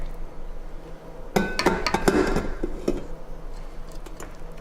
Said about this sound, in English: Got the bowl locked in.